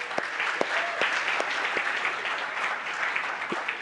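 Sustained audience applause for a Ruby conference speaker, a dense, steady wash of many hands clapping throughout with scattered sharper claps standing out near the front.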